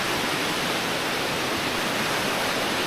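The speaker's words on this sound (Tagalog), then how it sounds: "Ang lakas ng baha." A swollen river in flood rushes nearby as a loud, steady roar of churning water near a fishpond and a bridge, with no pauses or breaks.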